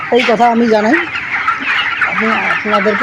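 Chickens cluck and crow in a poultry farm shed, with repeated harmonic calls at the start and again near the end. The calls sit over a steady background of many birds, and a faint voice is heard talking.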